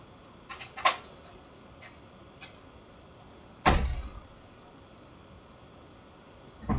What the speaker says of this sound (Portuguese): Meus gatos estão derrubando a casa.